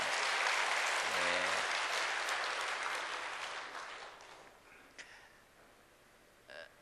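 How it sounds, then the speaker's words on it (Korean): A church congregation breaks into loud, sustained applause after a choir's praise song; the clapping is dense and full at first, then gradually thins and fades out over several seconds. "우리 박수로 하나님께 영광 돌리겠습니다."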